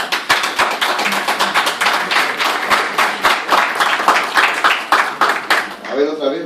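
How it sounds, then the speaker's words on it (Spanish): Students at a physics book presentation clap loudly together for about six seconds, a dense patter of many hands with sharper individual claps, and a voice starts talking as the applause fades. "Yo quisiera recibir un aplauso de mis alumnos de Sencico,"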